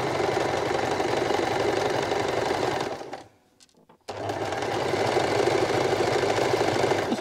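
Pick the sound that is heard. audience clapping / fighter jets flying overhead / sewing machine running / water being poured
sewing machine running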